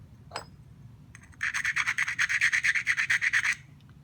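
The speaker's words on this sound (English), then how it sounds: "Grind it and file your bit on your copper and hope for the best" A file rasps across a copper soldering bit in about fifteen quick, even strokes over two seconds, after a brief scrape at the start; the sound is close and clear, with no talking.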